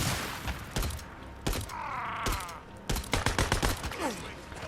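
Enemy gunfire crackles in the PlayStation game Days Gone, with several sharp shots and short rapid bursts spread across a few seconds and a voice briefly talking underneath.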